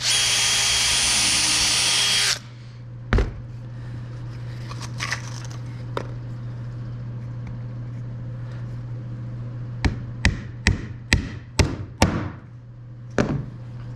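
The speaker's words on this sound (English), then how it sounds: "So what I'm going to do here is just pre-drill." A power drill whirs loudly for about two seconds as it pre-drills a hole in wood, then stops, followed by scattered clicks and knocks over a steady low hum.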